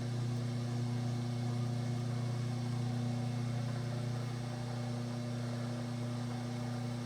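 Electric pottery wheel spinning steadily while a ceramic mug is thrown on it, a constant close motor hum with strong low tones, alone and unbroken throughout.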